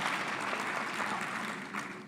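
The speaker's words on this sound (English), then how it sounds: "Can we give a round of applause to the HOD as well for chairing the session so well?" Audience applause at a basic education sector lekgotla conference session, dense steady clapping that holds evenly for about two seconds and thins slightly toward the end.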